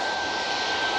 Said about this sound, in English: we have the TUI off to Dubrovnik with a 737 MAX 8